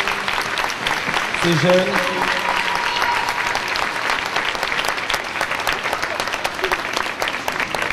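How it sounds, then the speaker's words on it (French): An audience applauds at a sports event honouring an athlete, with sustained dense clapping throughout and a brief voice speaking over it. "Alors on va les applaudir quand même 5-10 secondes."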